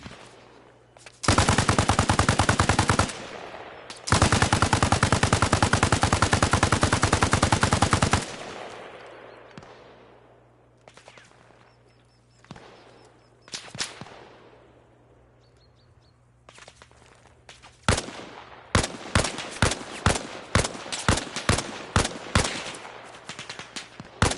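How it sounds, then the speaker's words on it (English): Gunfire in the Arma Reforger video game: two long, loud bursts of automatic fire, then a tail of scattered shots and a closing string of rapid single rounds, with faint birdsong between volleys. "they are shooting at me."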